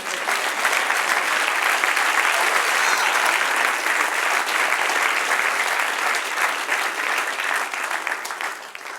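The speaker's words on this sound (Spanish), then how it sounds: "Den un aplauso al Señor." A church congregation applauds during a sermon, a dense, steady wash of clapping from many hands that holds at full strength throughout before easing slightly at the very end.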